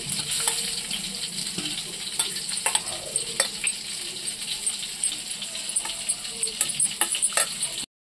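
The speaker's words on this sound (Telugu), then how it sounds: "బాగా చేతితో అయితే మొత్తం అన్నింటికి కూడా రొయ్యలకి పట్టుకునేలాగా బాగా కలిపి పెట్టుకోవాలి" Prawns are mixed by hand with lemon juice and curd, giving a wet, squelching stir with soft clicks and rattles of the bowl. The sound is close and continuous and stops abruptly at the end.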